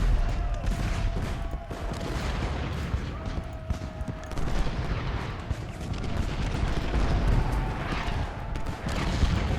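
Musket and artillery volleys boom and crackle in a continuous dense battle din in Ultimate General: Gettysburg, rolling fusillades layered over low rumbling cannon fire, loud and sustained throughout.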